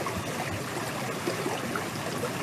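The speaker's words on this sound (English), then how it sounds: "Yes, you can hear the sound and also see the waterfall." A forest waterfall pours in a steady, unbroken rush of water at moderate volume with no voices, a dense constant wash that holds level throughout.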